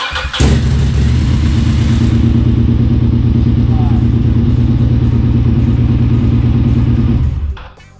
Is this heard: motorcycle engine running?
yes